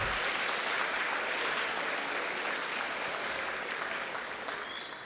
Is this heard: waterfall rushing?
no